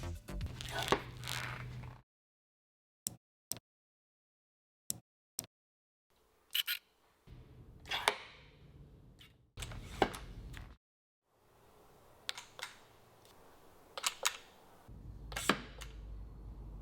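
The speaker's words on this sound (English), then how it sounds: "both of these posts make a very satisfying top out sound" RockShox Reverb AXS and Fox Transfer NEO mountain bike dropper posts topping out, several sharp isolated clicks and knocks separated by silence, mixed with rustling handling noise, close and fairly quiet.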